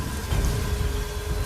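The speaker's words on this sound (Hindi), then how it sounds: "न कोई इंसान, न कोई आवाज, बस बारिश की लगातार ध्वनि" Steady, even rain falls continuously in a dark, lonely horror-story setting, a dense close hiss with no voices over it.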